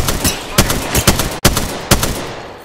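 Gunfire in Apex Legends on Xbox One: a series of loud, close shots in quick, uneven bursts, each sharp crack followed by a short rumbling tail.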